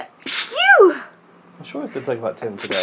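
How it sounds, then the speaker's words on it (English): A person with hay fever lets out one loud, close sneeze near the start, then speaks for the rest of the moment. "I'm gonna sneeze."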